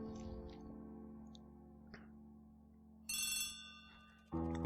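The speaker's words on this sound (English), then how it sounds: "Phone." A telephone rings in the Agatha Christie ABC Murders game, bright electronic trills that arrive in short bursts over a low steady musical drone, faint and fairly close.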